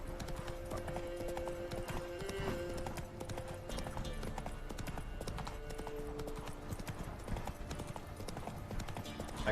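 A horse trots in a video game, its hooves clip-clopping in a steady rhythm under a continuous bed of game ambience.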